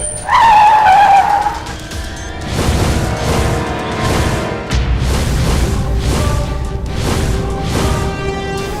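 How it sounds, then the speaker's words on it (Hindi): A vehicle screeches, tires squealing briefly, then its engine hums on under a backdrop of music with rhythmic beats. "उसकी तो गाड़ी भी आ गई"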